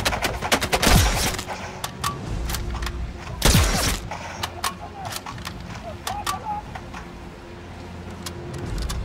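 Scattered gunshots and short machine gun bursts in the video game Sniper Elite 5, with sharp loud cracks among lighter pops and background clatter, while people talk throughout.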